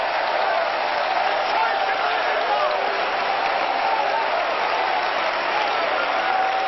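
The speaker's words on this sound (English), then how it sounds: "Don't be afraid to clap your hands and get up and shout." Congregation in an auditorium clapping and shouting during a 1993 church service, a dense, steady wash of crowd noise that runs throughout, loud and close, with voices mixed in.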